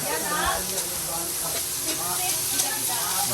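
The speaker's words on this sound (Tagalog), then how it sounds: "Nagisa na siya guys ng mga ricados." Spices and aromatics sautéing in a deep cooking pot for a Filipino pork soup, a steady crackling sizzle and hiss with occasional stirring scrapes, close and continuous throughout.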